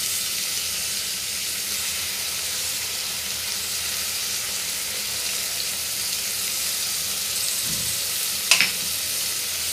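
Ginger garlic paste sizzles steadily in a hot pan while prawn rice is being cooked, a soft even frying hiss with one brief clink of a utensil near the end.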